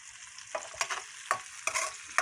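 Onions being stirred and browned in a hot frying pan for spicy pork chop adobo, with about five quick scraping strokes over a soft, continuous sizzle.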